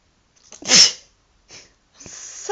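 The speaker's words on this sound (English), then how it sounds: "I need to sneeze." A single sharp human sneeze bursts out close and loud, followed by a softer breathy exhale and another brief airy sniff or breath near the end, with no talking over it.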